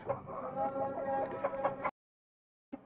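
Australorp hens cluck and murmur close by for a couple of seconds, then silence and a brief final cluck.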